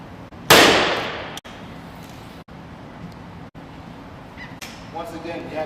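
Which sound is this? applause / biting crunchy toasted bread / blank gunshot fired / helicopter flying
blank gunshot fired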